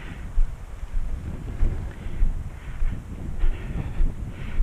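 Strong wind buffeting the microphone beside a trout fishery lake, a steady low roar with repeated gusts, close and loud with no talk.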